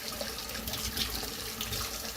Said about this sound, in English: Okay, that water's really hot. I let it run for a while.